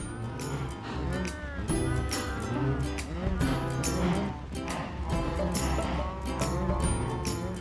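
Several cows in Minecraft moo over and over, overlapping in long low calls that swell and fade, loud and close, with no voices.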